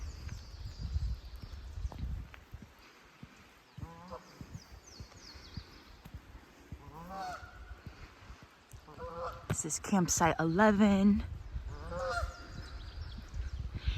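Geese honk loudly and repeatedly nearby at a riverside campground in Mohican State Park, a burst of raucous calls in the middle, while a person speaks briefly over outdoor background noise.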